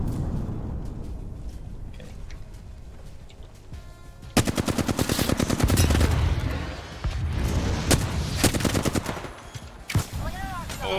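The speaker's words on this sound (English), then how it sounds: "What are these concussive blasts?" Concussive blasts in the video game Apex Legends erupt suddenly after a quiet stretch as a loud, rapid barrage of gunfire and booms, continuing in dense bursts with brief pauses, with no talk over it.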